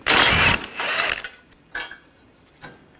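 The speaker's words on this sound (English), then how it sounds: "I'm going to take the outer bolt out," A hand ratchet fitted with a 15mm socket backs out the outer intercooler bolt on a 2013-2022 Buick Encore 1.4L, giving one rapid, bright clicking run followed by a few brief, fainter ratchet bursts.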